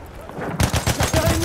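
Rapid machine gun fire in a World War I video game battle at Tahure starts abruptly partway through, a close, loud string of evenly spaced shots.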